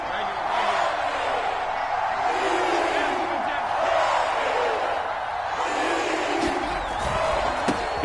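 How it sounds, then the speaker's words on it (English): A football stadium crowd roars steadily through a big third-down moment, a dense, continuous wash of cheering with a play-by-play commentator talking over it. "the crowd getting into it as we come up on a big 3rd down."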